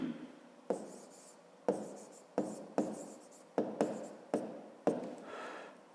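Pen writing on paper in repeated short bursts, each stroke starting with a sharp scratch and trailing off, about eight strokes over a few seconds, close and fairly quiet, with no voices.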